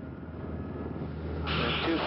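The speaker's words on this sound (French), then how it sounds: "arrive alors un Hercule C-130." A Hercules C-130 transport aircraft flying to a large fire, a steady propeller drone with engine hum that grows louder and brighter toward the end.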